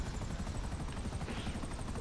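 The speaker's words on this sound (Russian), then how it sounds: "Это вертолет." Helicopter in the video game Grand Theft Auto V, a steady rapid rotor thump with a continuous engine whine, loud and constant throughout.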